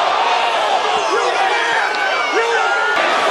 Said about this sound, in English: Crowd's very vocal about this.